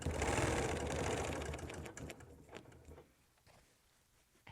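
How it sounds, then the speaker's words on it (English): A sewing machine stitches quilt fabric along a seam, a steady close mechanical whir that runs for about two seconds, then slows and fades into quiet handling of the fabric. "And stitch until that foot hits that seam."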